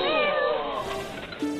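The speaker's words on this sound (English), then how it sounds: "Look! We found a cat!" A cartoon cat meows in a short series of stretched, pitch-bending cries, loud and close, with a brief higher call near the end and no talking.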